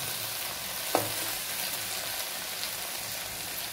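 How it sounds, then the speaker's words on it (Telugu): Ivy gourd (dondakaya) frying in an uncovered pan gives a soft, even sizzle throughout, with one brief scrape of a spatula; no voices. "ఇప్పుడు లిడ్ లేకుండా ఫ్రై చేస్తాను. దొండకాయ ఫ్రై అయిపోతుంది."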